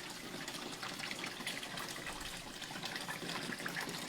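A baby alligator slips into the water, giving a steady faint wash of splashing and trickling water that runs throughout without pause.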